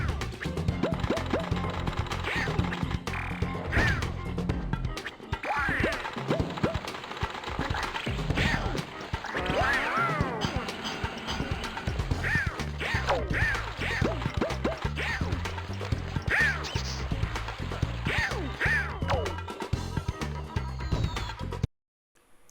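Gameplay from Quack Attack on the Sega Dreamcast, with a busy stream of game music and layered effects. Tonal blips and chirps play over a steady backing for about twenty seconds, fairly loud, then cut off at the end.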